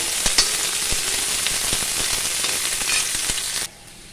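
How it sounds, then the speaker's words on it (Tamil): Onions and mustard seeds fry in hot oil for a potato curry, a dense continuous sizzle scattered with sharp crackles and pops from the seeds, loud and close throughout until it drops away near the end. "கடுகு பொறிஞ்சனையும் வெங்காயம் போட்டுக்கலாம்"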